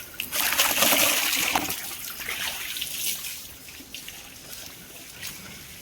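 Water is poured out for farm animals to drink in a village, splashing and trickling steadily at close range, loudest at first and then tapering to a softer dribble.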